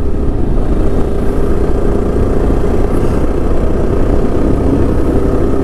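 A Yezdi Adventure motorcycle rides a hilly road with curves and bumps, its engine a steady, loud, close drone with no pauses and no voices.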